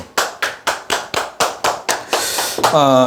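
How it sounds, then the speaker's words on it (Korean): About ten sharp, evenly spaced claps ring out near and loud in a steady rhythm at a stock investing talk, then blur into a brief burst of group clapping and end with a voice starting to speak. "네, 박수."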